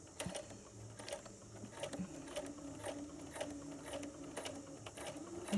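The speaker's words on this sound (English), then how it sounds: "you're just going to sew all the way to the bottom, just guiding it with both hands" A sewing machine stitching an invisible zip runs in a steady, fast clatter of needle strokes. It is fairly quiet and close, with no voices.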